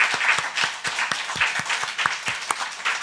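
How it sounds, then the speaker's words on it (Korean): Congregation applauding during a Christmas church worship service, a small crowd's clapping with some loud distinct claps standing out, fairly close and steady. "우리 목사님, 우리 전도사님들, 사역자들을 위해서 감사의 박수 한번 여러분들"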